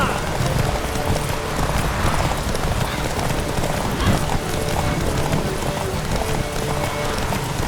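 Roach, Geralt's horse in The Witcher 3, gallops in a steady rapid clip-clop rhythm of hooves for several seconds, close and continuous, while voices talk over it.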